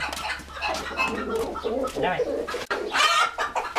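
Chickens in a henhouse cluck and chatter continuously close by, and people talk quietly among them.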